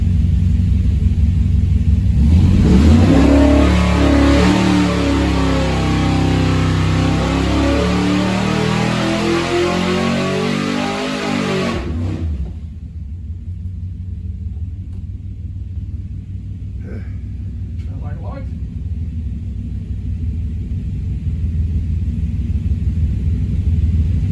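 A Big Block 400 engine with an Edelbrock Performer RPM intake roars on a dyno, a loud sustained rumbling pull for about ten seconds, then drops back to a steady heavy idle.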